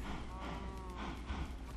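Cows mooing in the Minecraft video game, several low drawn-out moos overlapping in a steady stream with faint shuffling, no talk.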